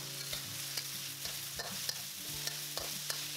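Chicken and garlic stir-fry in a pan, a steady sizzle broken by repeated scraping strokes of the spatula at a regular pace, close and clear with no voices.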